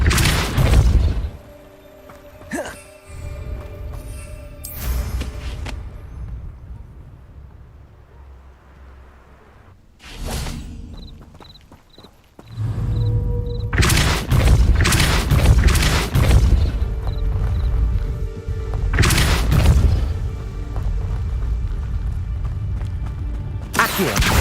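Depulso spell blasts in Hogwarts Legacy, a series of loud booming impacts with crashing debris, arriving in bursts separated by quieter stretches of ambient game sound.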